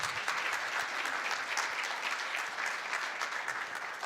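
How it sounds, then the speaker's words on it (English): Conference audience applauding panelists at the end of a panel session, a dense, steady round of clapping from a roomful of people, lasting several seconds without talk over it. "if we give them a nice round of applause"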